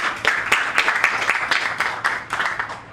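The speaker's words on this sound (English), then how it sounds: "round of applause for you" Audience at a tech cohort graduation ceremony applauding, a steady wash of many hands clapping at moderate loudness that fades slightly toward the end.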